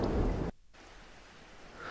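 Heavy rain pours in a steady wash, loud at first, then briefly cut off and returning as a softer, continuous hiss that swells again near the end.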